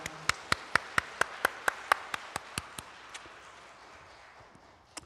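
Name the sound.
applause in church service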